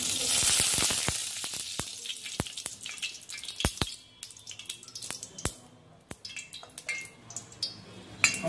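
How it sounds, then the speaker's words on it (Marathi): Oil poured into a kadhai for frying onions, while making spicy baingan bharta: a steady hissing pour for a few seconds, then scattered drips and small sizzling pops, close and fairly quiet with no talk. "पुढे आता आपण कांदा परतवण्यासाठी प्रथम कढईमध्ये तेल टाकूया."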